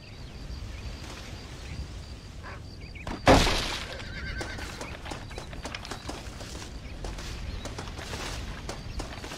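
A horse whinnies once, loud and close, in a Red Dead game session, rising sharply out of steady game background noise with faint hoofbeats and ambient clatter around it.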